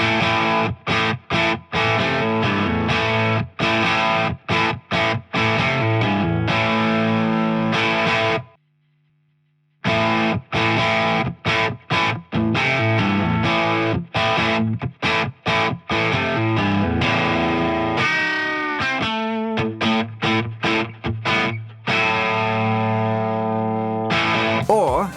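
Electric guitar played through a double boost pedal with both boosts stacked for up to 30 dB of combined gain. Loud, driven chords ring out with a brief silent gap partway through, then the strumming resumes.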